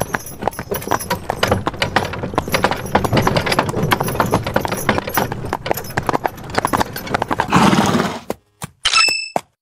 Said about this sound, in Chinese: 老黄牛拉着破板车慢吞吞地进入陶青信的视线。